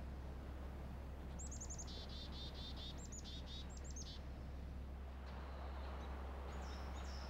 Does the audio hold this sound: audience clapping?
no